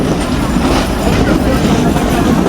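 A Mahananda commuter train running from Khulna toward Jessore picks up speed, heard from inside as a loud, unbroken rumble and rattling clatter.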